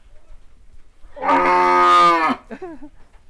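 A single cow gives one long, loud, close moo lasting about a second at a busy sacrificial cattle market in Bogor, followed by a few short faint calls.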